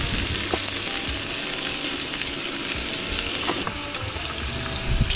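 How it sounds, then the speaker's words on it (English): Chicken browning in olive oil in a pan, a continuous close sizzle with occasional scraping clicks and no voices. "now let's just dump in this chicken and get this nice browning on the outside"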